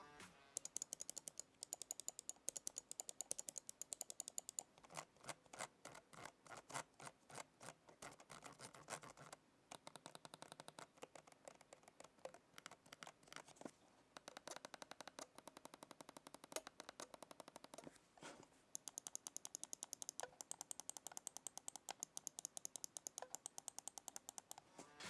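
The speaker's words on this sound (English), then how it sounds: "here's just a quick sound test of how all of the buttons on the Mamba Elite sounds" Rapid, crisp clicks of the Razer Mamba Elite mouse buttons, heard in quick bursts and steady runs separated by short pauses, close and fairly quiet with no voices.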